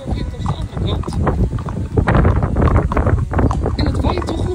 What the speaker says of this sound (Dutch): En het waait toch nog veel harder dan gehoopt.